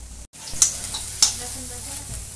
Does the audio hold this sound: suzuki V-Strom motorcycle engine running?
no